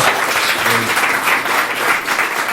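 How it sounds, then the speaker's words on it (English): A conference audience at I2PCon claps to welcome a speaker to the stage, dense steady applause filling the room from start to finish. "You all clapped way too early."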